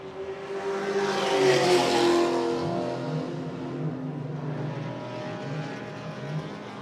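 Race cars roar past on a circuit during a club race, the engine note swelling to a loud pass and fading into a continuing droning blur of traffic as leaders lap slower cars.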